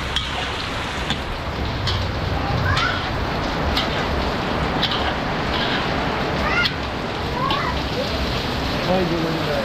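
Steady rain pouring onto surfaces outdoors, a dense continuous hiss with scattered drips, while people talk faintly in the background.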